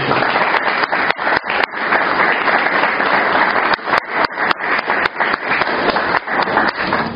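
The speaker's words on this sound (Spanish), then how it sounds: "démosle ese fuerte aplauso de bienvenida" A congregation at a church service claps in a strong welcoming round of applause, loud and dense throughout, broken by a few brief dips.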